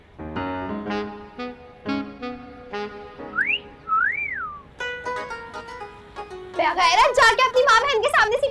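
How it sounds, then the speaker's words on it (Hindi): A person whistles a short melodic tune in a Pakistani comedy telefilm scene, with rising and falling whistled notes among spoken lines and background music, growing busier toward the end. "आपने सीटी बजाई है।"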